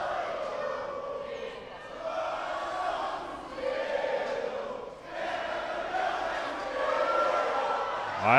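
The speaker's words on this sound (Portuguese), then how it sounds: "Olha a festa do torcedor" Football fans greeting the Cruzeiro team on its arrival in Uberlândia, a sustained crowd roar that swells and dips across several seconds, with voices shouting within the mass.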